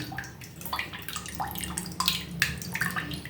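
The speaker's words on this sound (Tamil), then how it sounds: "அந்த புளியை திரும்பவும் நம்ம வடிகட்டி அதில் திப்பியெல்லாம் எதுவுமே இல்லாமல் க்ளீனாக எடுத்துப்போம்" Tamarind water poured through a strainer in a kitchen, a continuous close trickle with splashes and drips, moderately quiet.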